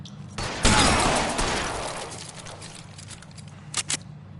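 A loud gunshot blast with a long rolling decay during a shootout in L.A. Noire, followed moments later by two quick sharp shots, set against a low ambient game rumble.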